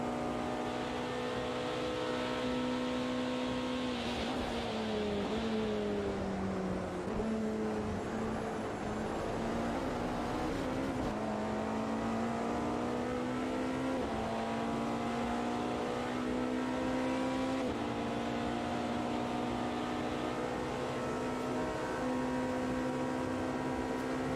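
Race car engines roar continuously in the Automobilista 2 sim racing game during a WEC-style endurance event with LMP2 cars, the engine pitch rising and falling through gear changes, loud and sustained throughout.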